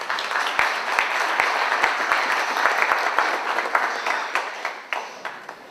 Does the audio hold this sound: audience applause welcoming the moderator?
yes